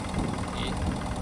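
A 130 E-Tech outboard engine on the back of a side-console boat runs with a steady, close, low rumbling idle and light knocking vibration throughout.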